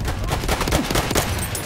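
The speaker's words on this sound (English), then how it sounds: "MG, feindlich!" Enemy machine gun fire during a World War I battle in a first-person shooter, a dense, continuous crackle of rapid shots filling the short stretch at steady loudness, with no voices.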